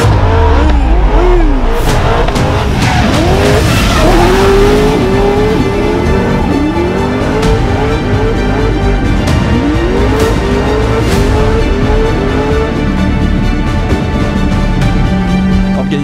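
A rally car crosses the finish line on a rally course, its engine revving hard and shifting through gears, loud and close, with repeated surges of acceleration and no talk over it.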